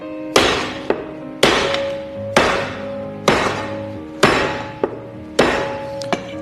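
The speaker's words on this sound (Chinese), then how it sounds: "先斩排骨，让我们换我们的五刀就是稍微厚一点的刀啊，来，最好是给它一刀切断。" A heavy, thicker cleaver chopping pork ribs for stir-fried spare ribs, six sharp, loud blows on a cutting board at a steady pace, each leaving a short ringing thud, with a few lighter taps in between.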